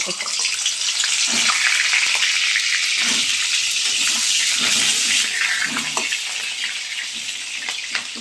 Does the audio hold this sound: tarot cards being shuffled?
no